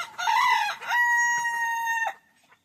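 A rooster crows once nearby, loud and clear, a rising first note followed by a long sustained ringing call that cuts off sharply, with no talk over it.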